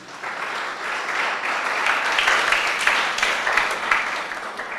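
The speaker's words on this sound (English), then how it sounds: "Please give yourselves a round of applause too." A large audience claps steadily at the closing ceremony of the 2022 Sci-Tech Innovation Challenge STEM festival, a dense, sustained round of applause that swells slightly and carries on throughout.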